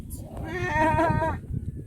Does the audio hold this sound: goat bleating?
yes